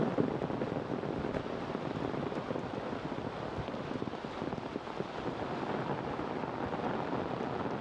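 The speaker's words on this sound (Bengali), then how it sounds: "অনেক জোরে বৃষ্টি পড়তেছে।" Heavy rain pours down in a village in Dinajpur, a dense, loud, steady wash of noise with no pauses and no voices.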